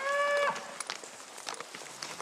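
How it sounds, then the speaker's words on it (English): A single loud, close moo from a cow during a high country cattle drive rings out for about half a second, followed by scattered shuffling and rustling in brush. "Moving some cows."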